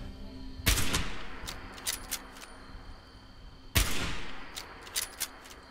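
Two loud sniper-scope gunshots in the video game Fallout 76, about three seconds apart, each followed by a decaying echo and scattered lighter clicks and impacts.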